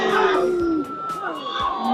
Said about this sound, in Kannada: ಫುಲ್ ಕ್ರೌಡೆಡ್, ಜನ ಫುಲ್ ತುಂಬ್ಕೊಂಡಿದ್ದಾರೆ, ಎಲ್ಲ ಕುಗಾಡ್ತಿದ್ದಾರೆ